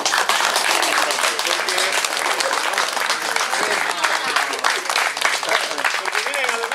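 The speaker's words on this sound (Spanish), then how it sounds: "quiero que le aplaudan aquí a nuestras amigas que nos apoyaron con los buñuelos" An anniversary gathering of Grupo Estanzuela applauds the friends who helped make the buñuelos: loud, sustained clapping from a close crowd, mixed with excited voices and cheers throughout.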